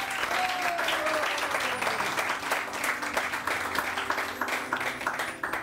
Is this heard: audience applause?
yes